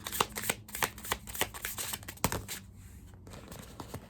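Tarot cards being shuffled close up in a reading, a brisk series of riffling slaps and flicks, loud and rhythmic for a few seconds, with no talk.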